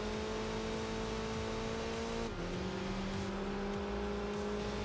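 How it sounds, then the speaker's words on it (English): An upgraded race car engine with a more aggressive exhaust note drones steadily in Enthusia Professional Racing, holding a tone, dropping abruptly in pitch midway as it shifts, then pulling on at a lower pitch, moderately distant and unbroken. "you can definitely hear it's a little bit more aggressive exhaust note as well with the engine upgrades"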